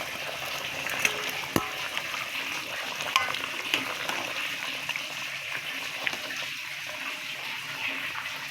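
Fried katla fish goes into a simmering curry with munshi potatoes. A soft bubbling and watery hiss runs throughout, with a few sharp clicks and taps from utensils and no talk.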